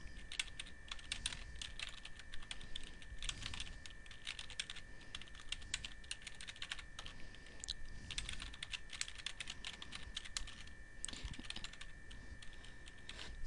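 Steady, quiet clatter of fingers typing on a computer keyboard, continuous and close, with no voices.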